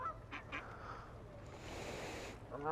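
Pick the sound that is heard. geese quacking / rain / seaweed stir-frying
geese quacking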